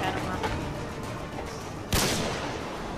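Call of Duty gunfire with a sharp hitmarker: a dense bed of distant shots and game noise, then one sudden loud crack near the two-second mark that rings off into the mix.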